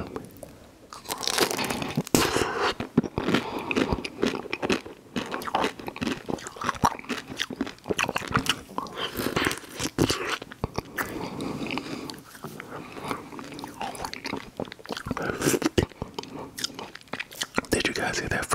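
Crisp, close crunching and chewing as someone bites into a McDonald's ice cream cone, with repeated crackly bites throughout against a quiet, intimate background.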